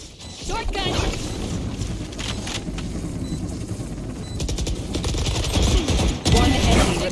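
Shotgun fire in the video game Valorant comes as loud, sharp gunfire bursts with mechanical clicks and clatter, alongside voices talking.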